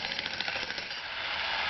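A small jackhammer breaks up concrete footings on a house construction site, a steady, dense rapid hammering heard close and loud throughout, with no voices.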